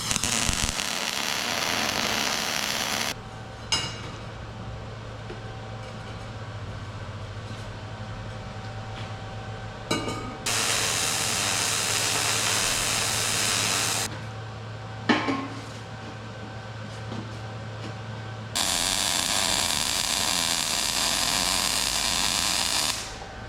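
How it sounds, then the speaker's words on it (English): Electric welding on irrigation pipe couplers, a steady buzzing crackle that runs in long continuous bursts, breaking off for short pauses with sharp clicks in between, close and fairly loud, with no talking. "So I think we're ready to start welding, so we'll weld it up and pray that it doesn't leak."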